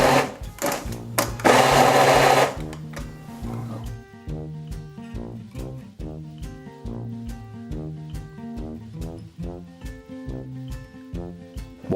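A kitchen blender mixes chicken pie batter: after one longer burst of running, it is pulsed in a rapid series of short, evenly spaced whirring bursts close by.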